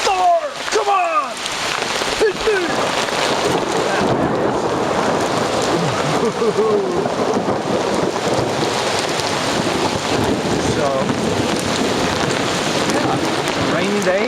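Heavy rain pours over Oslo, Norway in stormy weather, a loud, unbroken wash with low rumbling underneath and gusty buffeting at the microphone; a voice speaks briefly at the start.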